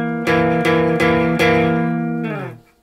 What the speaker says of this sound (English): If I play it on guitar, it sounds like this.